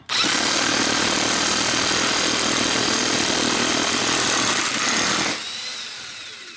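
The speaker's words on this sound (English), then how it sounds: "So I'm gonna go ahead and use an impact to drive it on." An impact wrench driving wheel studs into the rear hub of a Mk IV Toyota Supra, a loud continuous mechanical whirring and rattling for about five seconds that then cuts to a quieter background hum.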